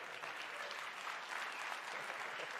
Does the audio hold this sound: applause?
yes